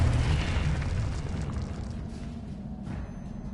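A Confringo blasting spell explodes in Hogwarts Legacy with a loud, deep boom that rumbles and slowly fades, heard alone.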